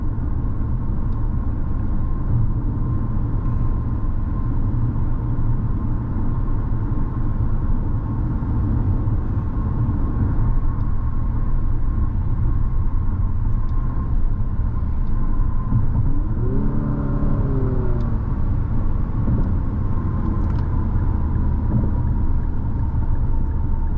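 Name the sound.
road noise inside a 2024 Infiniti QX55 while driving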